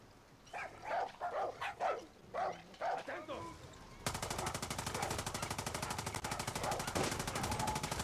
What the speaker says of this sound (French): Le petit chien.